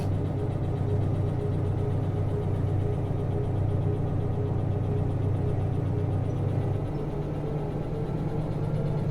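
A locomotive engine in the train game Derail Valley hums steadily with a low, even rumble at close range, holding for several seconds with a slight shift in tone near the end.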